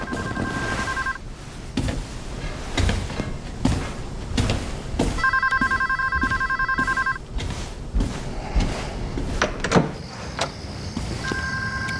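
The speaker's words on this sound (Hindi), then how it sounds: "तुम्हारा फोन बज रहा है।" A telephone bell rings in three separate bursts of repeated trilling, each lasting a second or two, set against a busy indoor background with soft movement and low noise.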